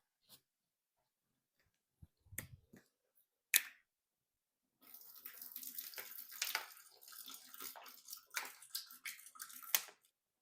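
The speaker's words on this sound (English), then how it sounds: "Then we're gonna add in about a gallon of water." Spring water pours steadily into a fermenting bucket of pear juice for several seconds, a splashing, hissing stream, preceded by a few sharp clicks and knocks.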